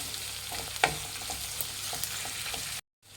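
Onions and green chillies fry in a pan for instant mango rice, a steady close sizzle with a few stirring scrapes and one sharp clink before a brief cutoff near the end.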